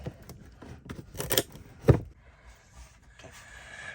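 A box cutter razor knife slices and scrapes during a USB outlet install, making a few sharp cuts and rasps, the loudest two close together. Faint rustling and handling noise follow.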